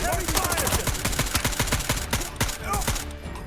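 Rapid automatic gunfire crackles back and forth in a firefight at a military base in the video game Incursion Red River, with dense overlapping bursts and single shots close by and loud throughout.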